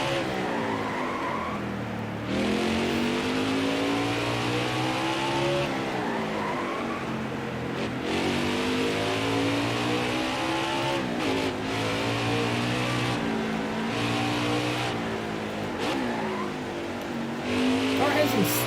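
A race car engine in NASCAR Heat 5 at Mid-Ohio revs up and down through gear shifts, with rising and falling pitch, tire squeal and a commentator talking over it throughout.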